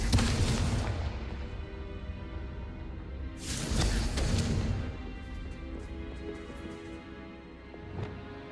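A Confringo blasting spell goes off in the video game Hogwarts Legacy, giving a loud booming explosion with a sharp burst near the start and another mid-clip over a continuous rumbling game soundscape.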